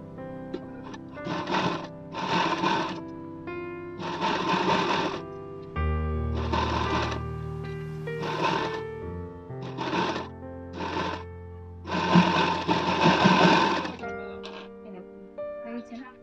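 A sewing machine stitches a princess-cut blouse in a run of short bursts and one longer stretch, close and steady, with a voice talking between and over the runs.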